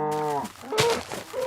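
A Minecraft cow gives a single drawn-out moo, clear and close, then a couple of softer bovine grunts trail after it. Nobody speaks over it.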